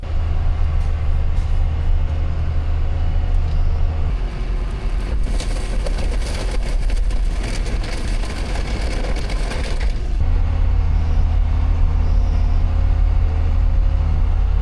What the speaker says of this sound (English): Ooh, that train's loud